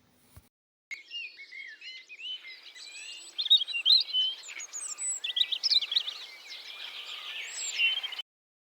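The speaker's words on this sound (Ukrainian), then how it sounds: "Як цю пташку звати? Так, молодці любі, шпак." Starling birdsong: a long, busy run of varied chirps, whistles and clicks, rising in intensity and lasting several seconds, heard alone against silence.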